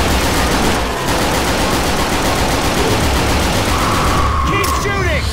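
Dense, continuous gunfire from Left 4 Dead 2 on the Dark Carnival campaign at Expert difficulty, rapid automatic bursts filling the mix loudly at close range, with players talking over it.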